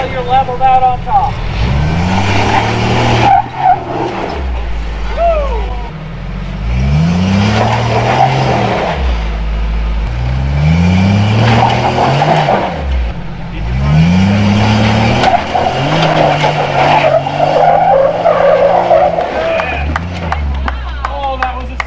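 A Toyota off-roader climbing a rough trail, its engine revving hard in repeated rising surges with gaps between, tires scrabbling on the slope, while people talk and shout over the close, loud engine.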